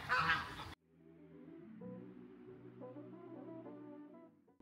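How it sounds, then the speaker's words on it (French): Geese on a farm honking in a loose, overlapping chorus, several birds calling repeatedly at a moderate distance after a short burst of louder noise at the start. "on empêche les oies de passer"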